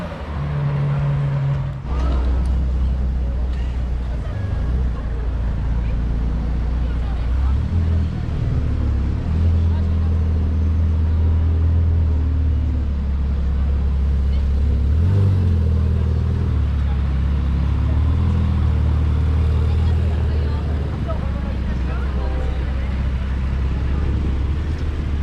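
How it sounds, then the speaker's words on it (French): A Ferrari F8 pulls away at a roadside in Geneva with its exhaust valves closed, giving a steady, muted engine rumble that stays fairly loud and continuous throughout, mixed with the noise of surrounding traffic. "La F8 qui part. Avec les valves qui sont fermées."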